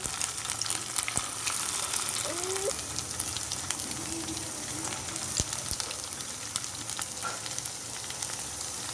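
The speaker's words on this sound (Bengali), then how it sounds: "আমি এখানে পেটিগুলো ভেজে নেওয়ার জন্য আমি এখানে ফ্রাই প্যানে তেল দিয়ে দিব।" Chicken burger patties fry in oil in a frying pan, making a steady crackling sizzle broken by occasional sharp pops, close and unbroken, with no voices.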